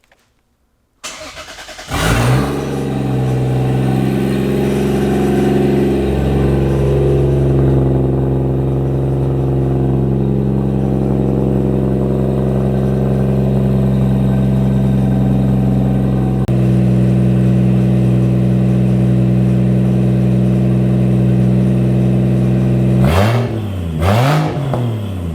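A Toyota Aristo's 2JZ engine with a straight-piped exhaust starts up and settles into a loud, close, throaty idle, with a couple of quick sharp revs near the end.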